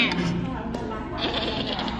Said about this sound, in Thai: เสียงแกะลอยมาเลย